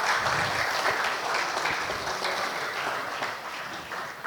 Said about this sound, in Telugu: నా కోసం వాళ్ళిద్దరు కుటుంబాలకు ఒకసారి చప్పట్లు కొడదామండి